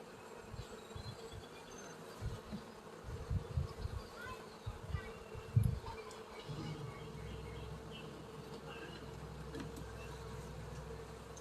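Honeybees hum and buzz around a weak hive opened for a Sunday inspection. The close, steady drone swells in bursts as individual bees pass near, then settles into a constant hum.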